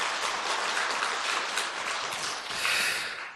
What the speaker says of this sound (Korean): 여러분 박수 한번 더 쳐볼까요?